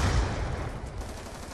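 Rapid gunfire in the first-person shooter video game Black Ops 2, a dense loud burst that stays steady and close throughout with no talking.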